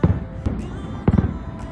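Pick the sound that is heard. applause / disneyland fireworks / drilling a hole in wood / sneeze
disneyland fireworks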